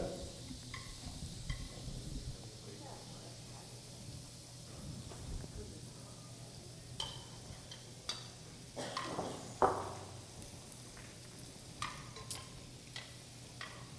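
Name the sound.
pasta being stirred and heated in alfredo sauce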